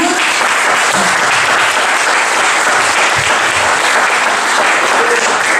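A church congregation gives loud, sustained applause during a sermon, a thick, even roar of many hands clapping close by without a break.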